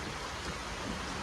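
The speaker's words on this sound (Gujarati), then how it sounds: "તો ભાઈ ફૂલ વરસાદ ચાલુ થઈ ગયો છે" Heavy rain pours down in a dense, unbroken roar, loud and close, with no voices.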